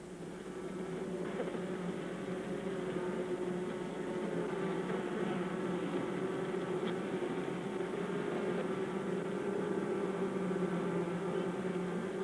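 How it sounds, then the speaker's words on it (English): Honeybees working in a summer hive make a dense, continuous buzzing hum that holds steady and fairly close throughout, with no voices. "As summer reaches its height, the honeybees work without ceasing."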